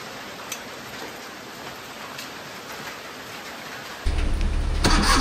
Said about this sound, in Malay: Ni pun ada hujan.